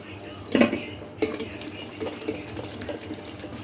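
A spoon stirs spices and lemon juice in a bowl for a fish biryani marinade, giving a few clinks and scrapes against the bowl, louder at the start and then softer, with no voices.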